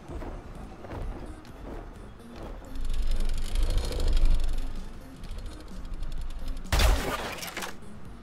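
Ship cannons fire during a naval battle in the video game Atlas, with booming, rumbling blasts building midway and a loud, sharp burst near the end over a busy background.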